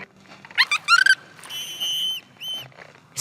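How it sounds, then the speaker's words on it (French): A cartoon character whistles a short series of high, bright chirping notes, then longer steady whistled tones, close and clear with no talking. "Fais-nous un joli petit sifflement."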